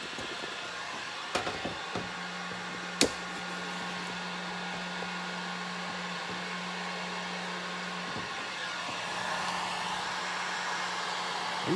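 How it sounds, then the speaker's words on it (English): Heat gun blowing hot air over honeycomb wax cappings to pop them open, a steady whooshing hum with a low tonal drone, broken by a couple of sharp clicks near the start. "We'll let our heat gun get warmed up here."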